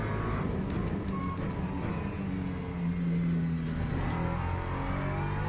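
LMP3 prototype race car engine in the Le Mans Ultimate sim racing game, a loud continuous droning hum that rises and shifts in pitch as the car runs at speed, with no talk.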